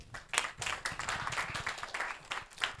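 An audience claps at an investors roundtable in Nigeria, producing a fairly quiet, steady patter of hand claps that continues for a few seconds without talk.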